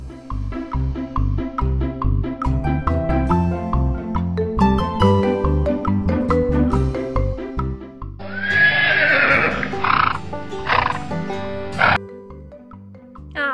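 A horse neighs loudly over music for about four seconds, a long high whinny with a shaky falling tail, coming from an animal sound in a farm and jungle animal toy unboxing.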